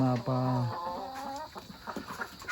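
Chickens on a farm give a series of clear, close clucks and drawn-out calls, a few loud tonal notes early on followed by scattered shorter clucks.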